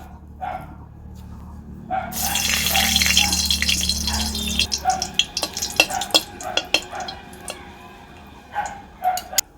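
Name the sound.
dry chillies frying in hot oil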